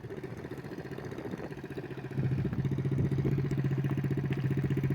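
A 50cc dirt bike engine idling nearby with a steady buzzing putter that rises and settles into a louder, even idle partway through.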